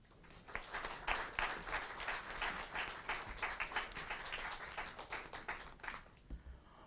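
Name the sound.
audience applause for the mayor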